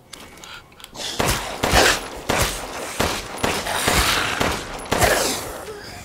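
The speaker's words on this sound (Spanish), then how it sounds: "Sé que estoy fallando todos los tiros" Repeated gunfire in the video game Resident Evil Village, a series of loud, sharp shots fired at irregular intervals over game ambience.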